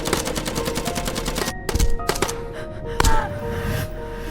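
Rapid bursts of automatic gunfire in a film scene, loud and dense, with a few heavier single shots and short pauses between volleys.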